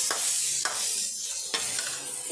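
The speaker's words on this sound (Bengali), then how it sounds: "দেখুন আমি লাউয়ের তরকারিটা দিয়ে ভালো করে এটা সাঁতলে নেব" Bottle gourd curry sautéed in a pan, a steady close sizzle of frying vegetables with occasional stirring scrapes standing out, no talk.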